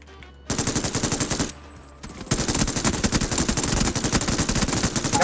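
Rapid automatic gunfire from the battle royale game PUBG rattles out in long continuous bursts. A short lull comes early, then the firing resumes louder and keeps going to the end, with no talk over it.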